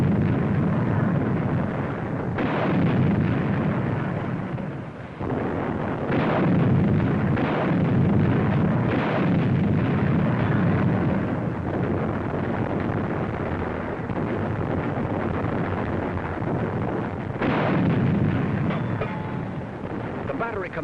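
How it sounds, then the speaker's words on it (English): British 25-pounder artillery guns firing in a battery: a dense, continuous roar of booming reports with periodic heavier blasts, loud and distant-sounding, under a narrator's voice on an old, noisy recording. "British 25-pounders open up."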